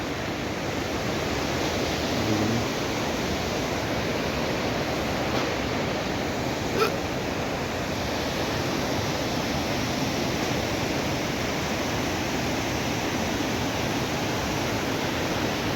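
The Alma Arasan waterfall and river below a snowy mountain near Almaty, Kazakhstan, give off a constant, dense rushing roar of falling water that stays even and unbroken throughout.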